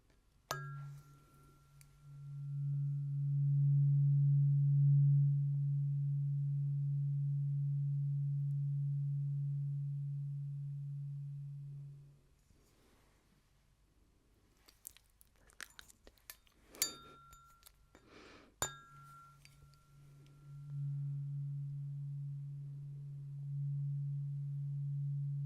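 Low sustained test tones for a hearing test: a steady low hum holds for about twelve seconds, then soft clinks and taps, then the low tone returns, quiet and pure.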